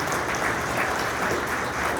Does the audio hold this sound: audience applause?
yes